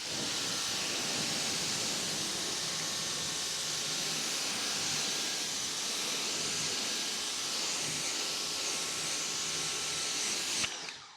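A Ryobi 1.8 GPM high-flow automotive pressure washer sprays through a test nozzle, making a loud, steady rushing hiss close by for about ten seconds before cutting off abruptly.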